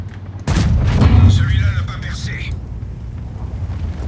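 A heavy artillery blast in World of Tanks booms loudly about half a second in, followed by a rumbling, decaying roar and steady low battle noise, with no other distinct shots.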